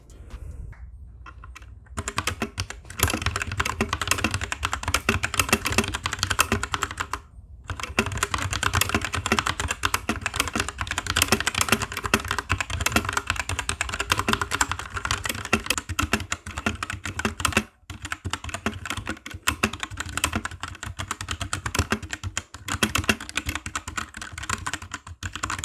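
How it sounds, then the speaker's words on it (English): Rapid, continuous clatter of typing on a mechanical keyboard fitted with O-rings, dense keystrokes close to the mic running for most of the stretch with a couple of brief pauses and no speech. "we'll jump right into a sound test so you guys can hear the before and after the O-rings were installed"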